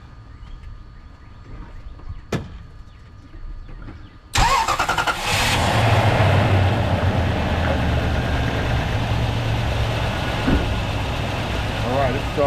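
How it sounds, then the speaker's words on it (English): A Toyota Tundra pickup with an EFI short-circuit fault cranks and fires suddenly after a quiet pause with a sharp click, then settles into a steady, close idle that runs on for several seconds. "we'll start this truck up and see if we got throttle response again"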